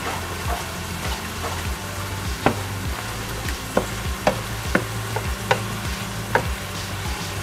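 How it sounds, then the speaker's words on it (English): Mushroom marsala sauce simmers in a pan as it is stirred, a steady bubbling hiss with periodic sharp clicks of a utensil against the pan, close and moderately loud. "you want to go ahead and just kind of keep stirring it every now and then until all the liquid looks like it's out of your pan"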